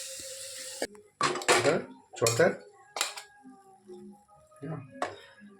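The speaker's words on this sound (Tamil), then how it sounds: "நல்லா முட்டையும் வெந்துட்டு ஓகேவா? நல்லா மிக்ஸ் பண்ணிடுவோம்." Cooked egg being stirred and mixed in a pan for tomato rice, with repeated scraping and clattering strokes of a utensil against metal and a soft sizzle underneath, close and fairly loud.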